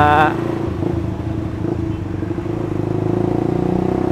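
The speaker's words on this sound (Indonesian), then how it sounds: "Tuh, lepas kopling pelan-pelan sambil digas. Masukin gigi 2." A clutch-equipped motorcycle pulling away and shifting into second gear, its engine a steady, close, loud drone. A person speaks briefly at the start.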